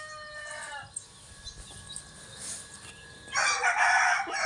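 A rooster crows near the start, then a quieter stretch with faint clucking from a mother hen with hatched chicks, followed by a loud, raspy crow toward the end, in a North Karnataka village.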